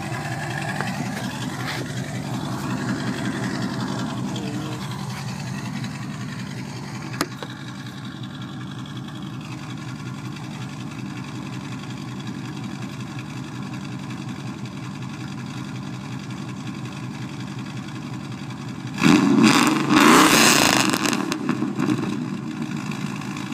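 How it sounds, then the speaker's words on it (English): Lifted 2000 Dodge Ram pickup idling with a steady low exhaust rumble for a long stretch, then a short louder surge of revving near the end before settling again. "I'll put the camera down and let you listen to the exhaust a little bit"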